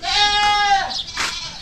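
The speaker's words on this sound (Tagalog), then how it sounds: "Yung kambing, di pa na pastol." A goat in a backyard lets out a loud, close, wavering bleat, followed by a shorter second call.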